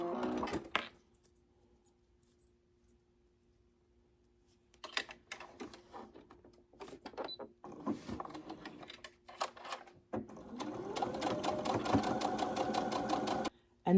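Sewing machine back-stitching a small wristlet pouch with a swivel clasp, stitching in short bursts around the middle then running steadily and loudly for the last few seconds, with handling noises between.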